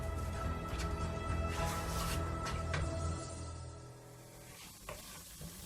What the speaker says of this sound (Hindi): और अब इन सारी चीज़ों को हम अच्छे से भून लेंगे